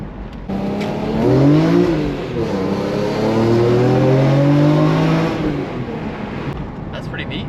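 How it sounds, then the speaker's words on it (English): BMW E46 M3 CSL with a CSL airbox, its intake roaring loudly at high RPM as the engine revs through the gears from inside the car. "you can definitely hear the intake once you get in the upper RPMs"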